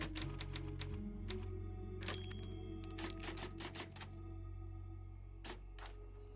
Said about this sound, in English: Typewriter.